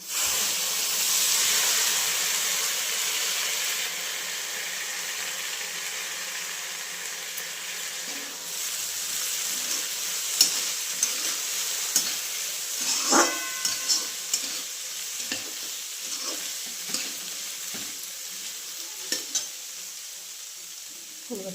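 Sliced onion frying in a pan until reddish brown, a continuous hiss that is stronger at first and then settles, with intermittent spoon scrapes and clinks nearby and no speech.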